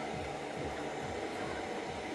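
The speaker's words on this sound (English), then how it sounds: "I'm going to go ahead and use a little bit of a hair dryer on here." A steady, even whoosh of blowing air from a hair dryer used during bridal hair styling holds at constant loudness throughout.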